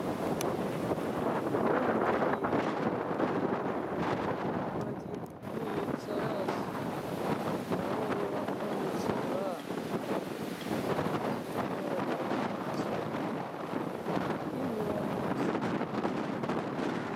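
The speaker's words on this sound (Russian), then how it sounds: "Сильный ветер поднялся здесь." Strong wind sweeps across a crowded lake at the Olshanskie quarries, a continuous gusty roar with heavy buffeting on the microphone that swells and dips throughout.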